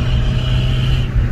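A car heard from inside a moving vehicle: a loud, steady low engine and road rumble with a constant whine, close and continuous for a moment with no talking.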